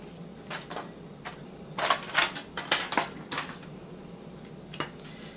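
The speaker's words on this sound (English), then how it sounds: "Go ahead and cut some more of this onion and put down in there." A knife slices a peeled Texas 1015 sweet onion on a cutting board, a run of crisp chopping taps that bunch together, then thin out to a few strokes.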